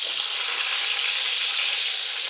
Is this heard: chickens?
no